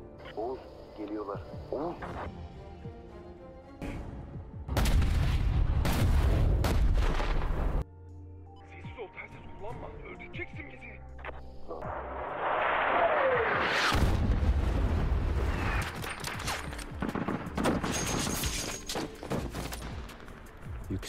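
Tank troops fire long-range shots in a war film battle scene, with heavy booming blasts and rolling bursts of gunfire in loud sustained stretches, separated by quieter passages under music and voices.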